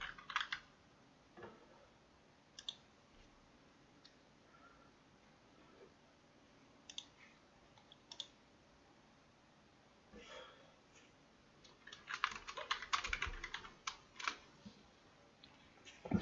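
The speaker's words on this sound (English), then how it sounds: "before anyone wonders what the typing's about" Bursts of typing on a computer keyboard while messaging during a Football Manager 21 session, sparse scattered clicks early and a dense flurry of rapid keystrokes near the end, fairly faint against a quiet room.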